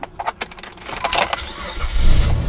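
Keys jangle close by before a car engine cranks and catches, rising into a steady idle over the last second.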